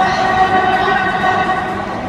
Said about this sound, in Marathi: बघा मेट्रो.